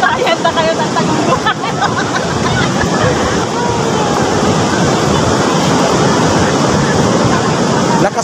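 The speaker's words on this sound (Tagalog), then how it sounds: "Lakas kasi ng alon, no?" Strong, large ocean waves surge and crash in a continuous loud roar at a beach, with people talking and voices babbling throughout.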